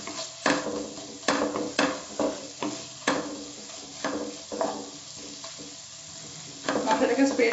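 Masala stirred with fried onions sizzling in a pan while Mughlai-style chicken nihari is made, with rhythmic spatula knocks and scrapes over a steady sizzle, close and clear, with no speech.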